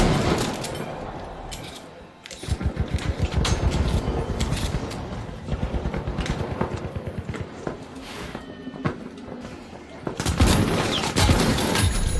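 Rapid gunfire from a weapon in the video game The Finals, bursts of close shots firing in quick strings with brief pauses, joined by heavier explosive blasts near the end, with a player talking over parts of it.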